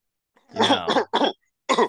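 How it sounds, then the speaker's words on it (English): A few harsh, close coughs in quick succession, the first longest, then two shorter ones and a final cough after a short pause. "I was coughing a lot."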